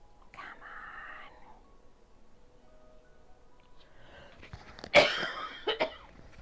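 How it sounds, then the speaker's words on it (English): A single sharp, close cough bursts out, followed by a couple of smaller coughs, after a stretch of quiet whispered speech during a sewing session on a travel bag. "I tried to give you warning when I'm going to cough."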